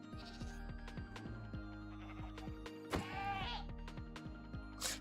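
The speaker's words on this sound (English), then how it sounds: "We might have to kill the goat." Repeated goat bleats in Minecraft, a run of short wavering calls spaced through the stretch, with a brief louder burst of other game noise midway and a faint voice in the background.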